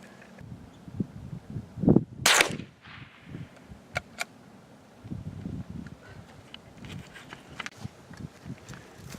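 Gunshots fired at a ballistic test block from 30 to 40 yards crack out as a few sharp reports amid outdoor rustling and handling noise, one shot louder than the rest.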